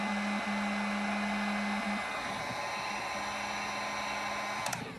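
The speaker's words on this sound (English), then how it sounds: "I'm going to hit it with the heat gun." Heat gun blowing over epoxy on a cow print tumbler, a steady loud airy whoosh with a constant motor hum that runs unbroken throughout, close to the listener and without speech.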